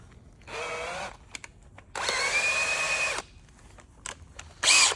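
A power sander buzzes against small wooden pieces in two sustained bursts, each about a second long, close and loud, with brief clicks and handling noises between and a short sharp burst at the end.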